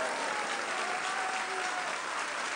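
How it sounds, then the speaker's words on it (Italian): A television studio audience gives sustained applause for a 16-year-old singer, an even, continuous roar of clapping heard at a distance with no talk. "Ci vuole un doppio applauso."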